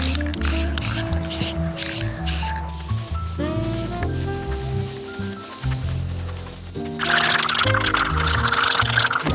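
Spray paint hisses in short bursts and then a longer sustained blast as a Honda Beat gets repainted. The hiss is close and fairly loud, with music playing underneath.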